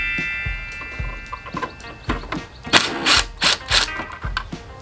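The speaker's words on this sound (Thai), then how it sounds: "จะมีเสียงแกรกแกรกแกรกนิดนึงนะครับ เพราะว่า ถ้าเวลามันขันไม่ออกเนี่ย มันจะมีระบบกระแทกในตัวของมันนะครับ" A 12V cordless impact driver whirs and then hammers in rapid rattling bursts while loosening a nut, close by, with mechanical ticking between.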